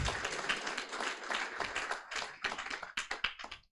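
Audience at a climate startup pitch final applauds after a pitch. The clapping is dense and close at first, then thins into sparser, separate claps toward the end, with no talk over it.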